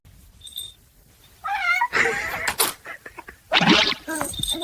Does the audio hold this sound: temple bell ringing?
no